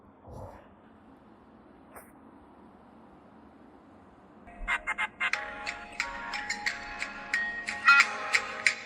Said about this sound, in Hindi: लो मेरे बाप का फोन आया फिर से।